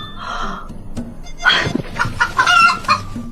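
A rooster crows, followed by a burst of loud clucking and squawking from nearby chickens.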